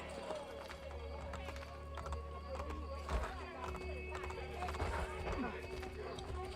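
A horse galloping in Assassin's Creed Brotherhood, rapid clip-clopping hoofbeats running steadily at moderate distance over a low ambient rumble, faint and continuous.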